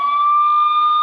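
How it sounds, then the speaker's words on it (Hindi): A police car siren gives a loud, steady high electronic tone that runs without a break for the whole short stretch, close and clear with nothing else heard around it. "फिर पुलिस की गाड़ी आती है"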